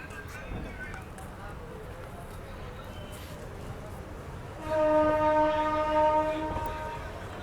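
A train departs Rajkot Junction and sounds a sustained horn for about two seconds near the end, over a steady rumble of rolling stock and platform noise, with people talking nearby.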